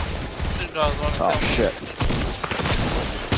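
A Fortnite M&M minigun fires in continuous loud, rapid bursts, with brief gaps between volleys, while someone talks excitedly over the shooting.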